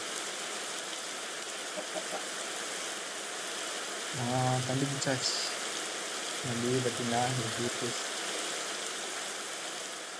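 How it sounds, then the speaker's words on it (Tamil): Steady rain falls throughout a Minecraft game world, a continuous broadband hiss with voices speaking over it in two stretches. "மழை தான் செம்ம மழை பெஞ்சுங்க."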